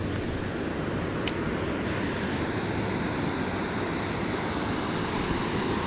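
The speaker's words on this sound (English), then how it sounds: "There's a little waterfall over here." A little waterfall on a South Jersey creek pours steadily, a constant broadband rush of falling water heard close and unbroken with no voices.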